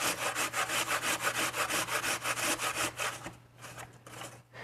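Juicy apples are grated on a large grater with quick, even back-and-forth rasping strokes, close and crisp, about a dozen in a steady rhythm before they slow and stop.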